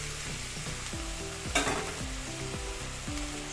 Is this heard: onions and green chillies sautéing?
yes